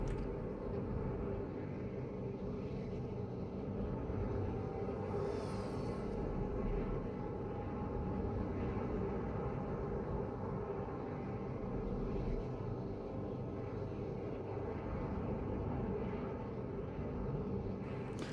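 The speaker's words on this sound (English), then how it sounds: "the Valkyrie is probably the closest thing in the game to a helicopter" A Valkyrie, a helicopter-like aircraft in PlanetSide 2, drones with a steady, dense engine rumble and wind roar that holds at an even level throughout, with no talk.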